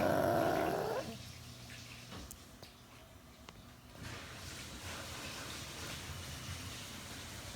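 A pet dog snoring indoors, a soft, rough, rumbling breath under faint room noise that follows a brief louder sound at the start.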